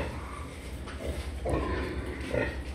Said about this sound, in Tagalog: Yan, ito naman ang ating boar.